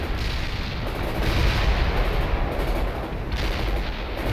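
Dense, continuous battlefield barrage in the World in Conflict video game, with mortar fire and artillery-like booms rumbling steadily and loud throughout, no clear gaps between impacts.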